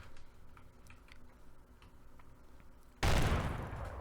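C4 explosive on a tier 1 twig base wall in Rust: several seconds of faint, quiet ticking, then a sudden loud, close blast that roars and fades out at the end.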